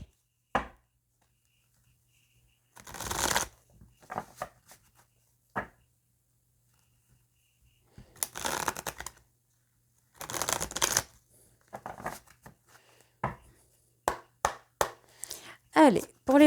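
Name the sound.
shuffling and cutting tarot cards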